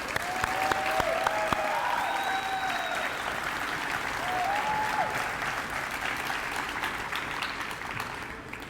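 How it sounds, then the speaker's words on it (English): An audience at a high school letter-of-intent signing gives a student athlete a sustained round of applause, steady clapping with scattered whistles and cheers, easing slightly toward the end. "Everybody please give him a round of applause."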